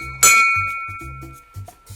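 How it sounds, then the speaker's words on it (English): A bell is struck once, giving a bright metallic ring whose tones hang on and slowly fade. Low, thumping background noises continue around it. "Let's ring the bell."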